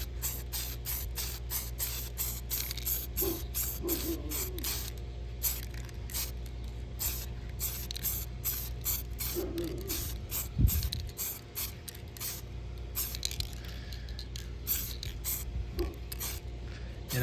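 Tamiya orange spray paint hisses onto a Proline VW Baja Bug RC body for an Arrma Typhon Grom in a long string of short, even bursts at close range, with no talking.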